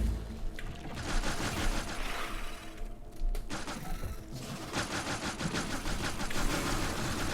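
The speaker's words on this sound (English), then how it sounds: "I'm actually out of flamethrower ammo" A flamethrower fires at enemy bases in the game Factorio, producing a continuous crackling roar with rapid popping bursts, a brief dip near the middle, then steady again.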